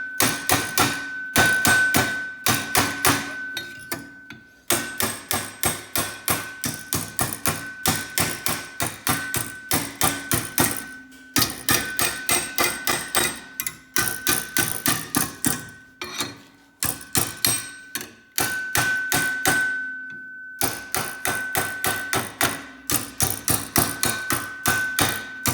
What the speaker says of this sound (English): And just keep hammering it back and forth.